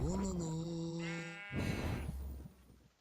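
A Minecraft sheep bleats loudly, one long wavering bleat that bends higher partway through, followed by softer in-game background noise.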